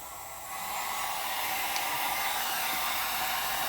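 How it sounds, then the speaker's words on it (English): A heat gun switches on and blows hot air in a steady, even whoosh, holding a constant level for the rest of the moment with no talk over it. "Take my heat gun."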